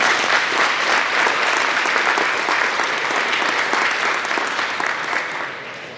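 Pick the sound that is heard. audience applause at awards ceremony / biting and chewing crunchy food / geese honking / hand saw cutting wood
audience applause at awards ceremony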